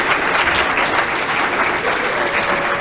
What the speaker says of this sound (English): Can we give all of our graduates another round of applause?